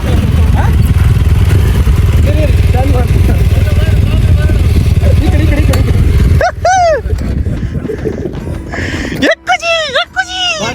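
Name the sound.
motorcycle engine running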